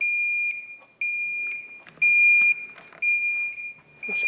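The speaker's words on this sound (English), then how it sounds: "That's definitely an alarm." A loud building alarm pulses in steady high-pitched tones, each lasting about half a second with short gaps, close and dominant, with faint rustling underneath.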